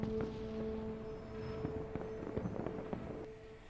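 Gunshot sound effects play during a Cyberpunk Red tabletop role-playing session: a string of sharp, uneven bangs and cracks, fairly close, over a faint steady tonal background with no talking.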